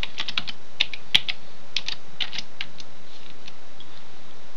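Keys clatter on a computer keyboard as a password is entered while setting up a Windows Server 2008 user account, a close run of light, irregular clicks that bunch together early and then thin out to near quiet.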